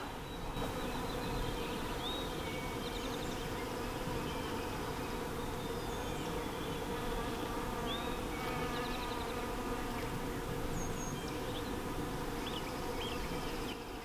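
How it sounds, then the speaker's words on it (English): Many bees buzz steadily all around an apple tree, a dense, continuous drone with individual insects zipping close by now and then, and birds chirping faintly in the background. "it is just full of bees"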